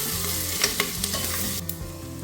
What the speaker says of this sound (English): Give it a good stir and cook until the onions get light brown in color.